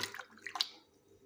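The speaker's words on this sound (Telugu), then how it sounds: "నెక్స్ట్ వాటర్ వేసేసేసి ఇంకోసారి అయితే అలా అలా అయితే కడిగేసేయండి" Raw mutton pieces being rinsed in a bowl of water for curry, with a few soft splashes and drips close by, brief and fairly quiet, no talking.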